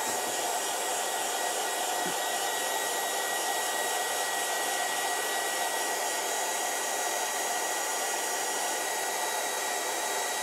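A heat tool blows steadily on a Halloween card, a continuous loud airy whoosh held for about ten seconds with no talk.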